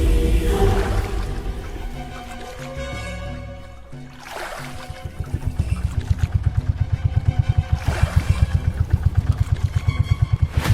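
A boat's engine runs steadily while the boat is turned around in jungle waters, a rhythmic throbbing motor chug that swells louder and pulses faster in the second half, with no voices.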